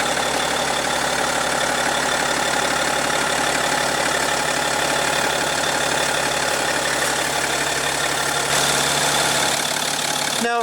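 A 2015 BMW X5 with a 3.0 L inline six-cylinder turbo diesel idles steadily nearby, a continuous even rumble with a faint clatter, before a brief shift near the end.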